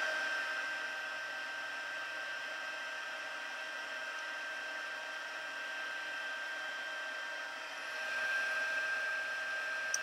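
A handheld heat tool blows steadily over a paper craft card as it dries, a continuous close whirring hiss with a constant high whine that swells slightly near the end.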